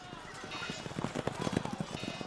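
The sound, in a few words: horses galloping and neighing, cavalry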